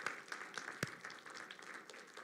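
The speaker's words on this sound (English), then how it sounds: "now very round applause to everybody" Steady applause from a conference audience, many hands clapping at once with a few sharper claps standing out, continuing throughout.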